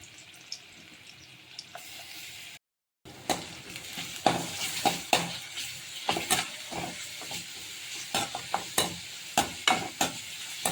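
Ginger garlic paste is sautéed for egg rice, a soft sizzle with many sharp spatula scrapes and taps against the pan after a brief silent gap near the start.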